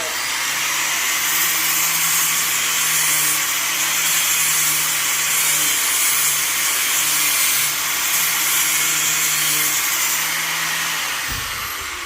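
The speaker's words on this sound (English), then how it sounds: "I'm going to put my helmet down, turn on my grinder, and we'll grind a little bit." Continuous loud whine of an angle grinder working steel to clean it before welding, a steady broadband roar with slight swells that cuts off sharply near the end, no voices.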